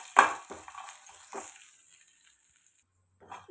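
Whole spices (fennel, cinnamon, cloves, cardamom and star anise) are sautéed in a kadai for tempering. A few short crackling, stirring bursts come close up, then a near-silent pause and a last brief scrape.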